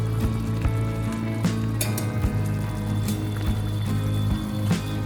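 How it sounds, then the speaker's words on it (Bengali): Fried fish being stirred into a simmering curry for kajoli macher jhol, a bubbling sizzle with rhythmic scrapes and knocks of a spoon against the pot, steady humming background. "10 মিনিট পর ভেজে রাখা মাছগুলি দিয়ে নেড়ে চেড়ে মিনিট খানেক ফুটিয়ে নেব"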